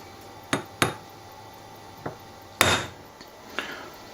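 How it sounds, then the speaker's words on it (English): A hammer strikes a metal punch held against a BSA Hornet airgun reservoir, several sharp separate taps at uneven intervals in a quiet workshop, close and crisp. "make sure that the punch is held firmly down towards the reservoir"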